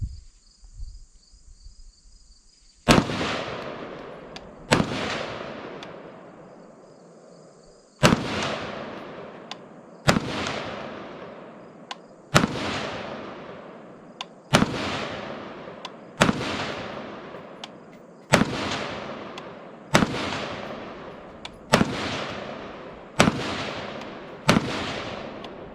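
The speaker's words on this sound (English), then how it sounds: "We're just gonna sling a couple rounds." Ruger AR-15 rifle fired at an outdoor range: about a dozen loud, sharp shots at irregular intervals of one to three seconds, each with a short ringing decay and no talking.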